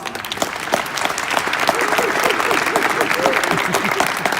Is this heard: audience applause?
yes